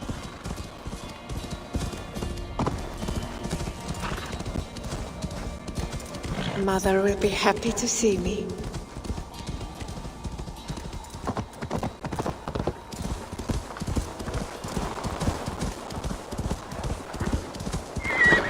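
Horse hooves clip-clop steadily in Assassin's Creed Valhalla, with a neigh partway through, while characters speak over the hoofbeats and background game sounds.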